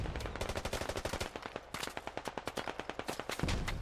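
Rapid machine-gun fire in a tactical squad shooter game rattles out in long, loud, evenly spaced bursts, with a brief pause partway through before the shots resume.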